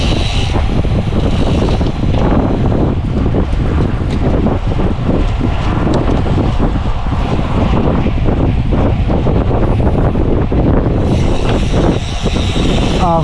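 Strong wind roaring and buffeting continuously, loud and unbroken throughout, with faint rumbling underneath.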